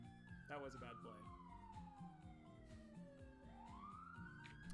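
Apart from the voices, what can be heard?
sirens outside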